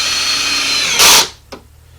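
Power drill driving a 2-inch deck screw into wood while building a wooden cope and drag flask, with a loud sustained whir for about a quarter second, then a short softer burst after a pause over a steady background hum.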